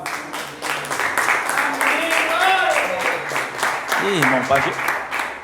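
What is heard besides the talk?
congregation clapping for Jesus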